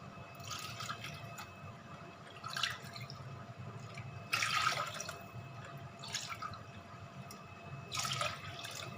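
Lassi buttermilk poured bowl by bowl into a vessel for Punjabi kadhi, heard as several separate splashing pours a couple of seconds apart over a faint steady background, nobody speaking.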